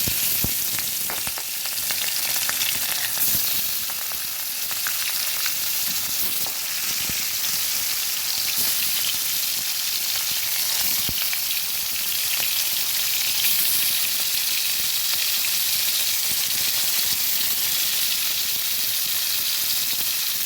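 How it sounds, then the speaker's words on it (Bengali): Katla fish pieces frying in hot mustard oil, a loud, dense crackling sizzle with scattered sharp pops, steady and close for about twenty seconds with no talking. "গরম করে এবার দিয়ে দেবো মাছগুলো।"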